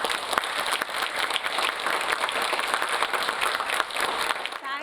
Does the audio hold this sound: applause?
yes